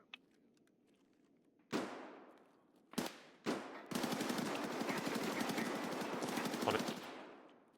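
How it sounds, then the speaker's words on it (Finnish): Video game gunfire in Pakene Helsingistä: a few sharp single shots, then a sustained burst of rapid automatic fire lasting several seconds, loud and close against a quiet background. "Mä en pysty keskittyä, kun täällä ammutaan niin paljon."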